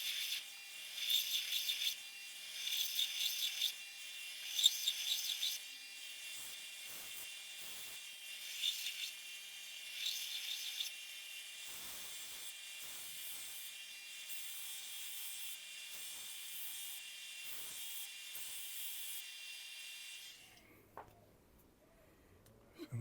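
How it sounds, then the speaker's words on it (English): The edge of a cleaver is ground on a sanding machine, a steady high abrasive hiss with repeated bursts of harsher grinding as the blade is run along the belt, ending abruptly into near silence. "I just ran it along the grinder a little bit, on the sander a little bit along the edge to try and thin it out"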